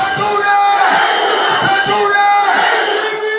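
A large crowd roars and chants at a 2023 Nigerian general election campaign rally as party candidates are presented, a loud sustained mass of voices rising in waves with shouted calls throughout.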